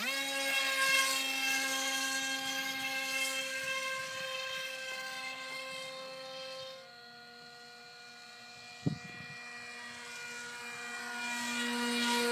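A scratch-built RC foamboard airplane flies overhead, its electric motor giving a steady high whine that drifts in pitch as it passes, fading briefly before swelling again, with a short knock partway through.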